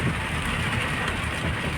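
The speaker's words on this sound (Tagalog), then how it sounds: "malakas pa rin ang ulan mga ka-secret oh" Heavy rain during a typhoon, heard from a vehicle on the road, a dense, steady roar with a rumbling low end that holds unbroken for under two seconds.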